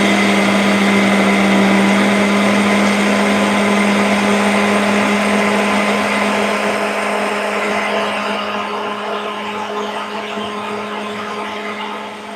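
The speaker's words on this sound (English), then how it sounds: "So I'm gonna blend. It's gonna make some noise." A loud blender whirs continuously up close, its steady motor drone slowly easing in pitch and volume toward the end.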